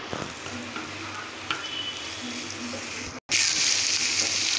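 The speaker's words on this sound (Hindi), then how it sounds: "अब इनको घी में हम थोड़ा फ्राई कर लेंगे।" Dry fruits frying gently in ghee in a pan over low heat, giving a steady close sizzle with a few stirring scrapes, which jumps louder after a brief cut.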